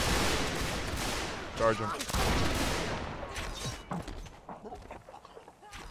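Muskets fire a ragged volley in a multiplayer video game battle, with a rapid burst of sharp cracks followed by scattered shots, while players talk over the gunfire.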